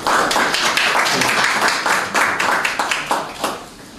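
A room of people at an intelligent monitoring system handover ceremony applauds, a dense, bright patter of clapping that holds steady and then tapers off at the end.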